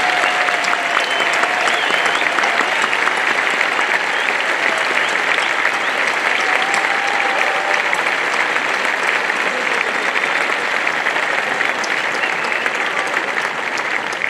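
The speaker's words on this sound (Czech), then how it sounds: "Já si myslím, že to zaslouží velký potlesk." A large audience applauds at the results announcement of the 2022 international folklore festival in Strážnice. Continuous, even clapping lasts about fourteen seconds, with the crowd heard faintly underneath and no speech.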